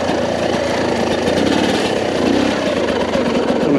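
A 2022 TM EN300Fi motorcycle engine lugging at low revs in first gear, a loud, steady, rough throbbing drone close to the rider.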